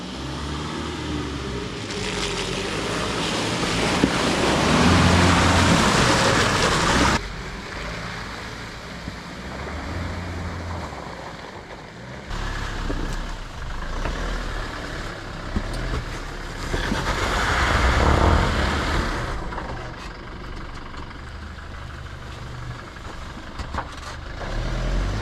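Toyota Fortuner with automatic transmission driving off-road through water, engine droning and revving as it shifts gears, with loud rushing splashes and churning water surging and fading over several passes.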